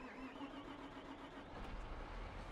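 A John Deere 8R tractor engine in a Farming Simulator mod cranks and starts, a dense mechanical roar that builds slightly toward the end, loud and close with no talk.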